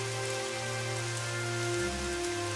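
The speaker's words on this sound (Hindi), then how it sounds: "तेज बारिश अब हल्की होने लगी थी" Heavy rain falls in a cold-weather setting, a dense steady hiss of drops spread evenly across the whole stretch, with low tonal hum beneath it and no speech.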